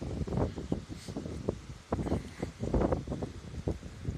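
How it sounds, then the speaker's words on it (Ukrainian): Gusty wind buffeting the microphone in irregular bursts over a farm field after sowing, loud and rumbling with rustling underneath. "Вітер дує"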